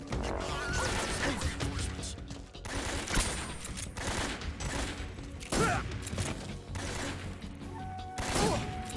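Dense gunfire aimed at the player in Metal Gear Solid 3: Snake Eater, a continuous loud barrage of rapid shots and metallic crashes with no pause, close and chaotic.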